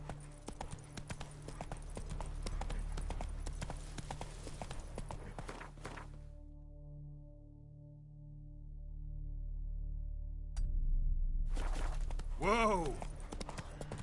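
Hoofbeats of Roach, Geralt's horse in The Witcher 3, clop steadily for about six seconds under a low music bed, stop during a quiet stretch, then resume near the end.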